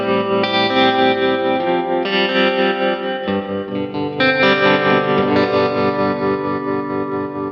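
Electric guitar played through a NUX Trident multi-effects unit with a dark analog-style delay, loud sustained chords and notes ringing with soft repeating echoes, no talking.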